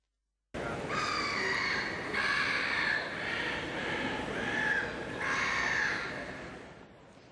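Seagull cries in Piazza San Marco, Venice: a run of about five harsh, drawn-out calls following one another closely, fairly loud and clear over a steady outdoor background, with no talking.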